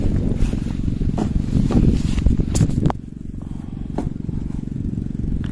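A 7-inch FPV drone powered by a homemade Li-ion battery pack, a steady loud buzzing motor drone that drops to a softer hum partway through, close by and continuous.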